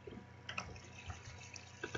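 Quiet dripping and trickling water from Minecraft, with soft splashes at a loose irregular rhythm and no talk over it.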